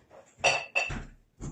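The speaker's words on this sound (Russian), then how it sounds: "посуду беру" Dishes being picked up and clinking together while tidying in a Russian village home: a few sharp clattering knocks, one after another, close and moderately loud, with short pauses between.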